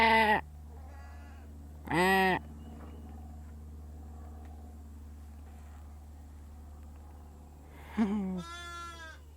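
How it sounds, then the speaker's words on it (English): A little lamb on a living history farm bleats three times, close and clear, with quiet gaps of background hum between the calls. "Ooh, what is this? A little lamb."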